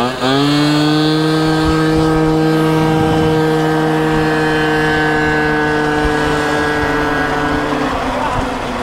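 A Sur Ron electric dirt bike held at full throttle at night on grass, giving a steady, loud, sustained motor whine with a constant pitch that barely changes, while people talk over it.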